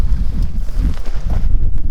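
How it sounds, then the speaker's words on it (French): Strong gusty wind buffets and flaps against nylon tent fabric up close, a steady low roar with rustling bursts throughout. "Bien venteux là, la tente."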